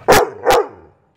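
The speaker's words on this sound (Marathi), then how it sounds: "कुत्र्याचे भुंकणे," Two loud, sharp dog barks in quick succession, close by and alone, the second trailing off into a short fading tail.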